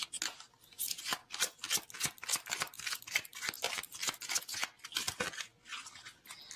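Tarot cards are shuffled in rapid, crisp riffles that make a dense run of papery flicks and snaps. The sound is close but quiet and continues for several seconds with a short pause near the end.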